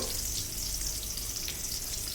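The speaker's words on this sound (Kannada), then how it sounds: "ಎಣ್ಣೆ ಕಾದ್ಮೇಲೆ ಎಲ್ಲ ಮೀನನ್ನು ಒಂದೊಂದೇ ಈ ಥರ ಹಾಕೋತಾ ಬರಬೇಕು" Fish pieces frying in hot oil in a wide pan, a steady dense sizzle that holds close and loud throughout with no talk.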